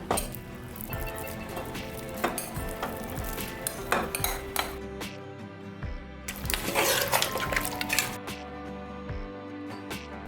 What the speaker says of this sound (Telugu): మనం మ్యారినేట్ చేసుకున్న బిర్యానీ మసాలాని ఈ నాటుకోడిలో కలుపుకుందాం